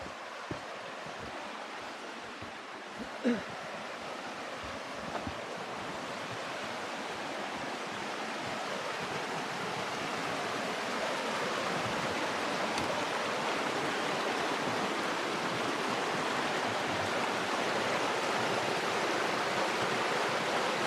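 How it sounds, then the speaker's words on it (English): A fast-running river beside a forest trail makes a steady, broadband rushing wash. It is close and continuous for the whole stretch and grows slightly fuller after the first few seconds, with no voices over it. "here's the river"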